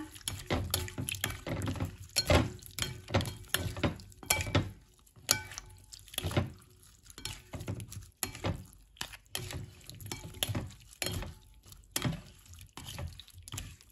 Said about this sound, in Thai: เราก็คนเลยนะคะ